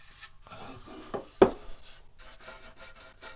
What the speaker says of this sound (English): I'm going to sand that down just a little bit.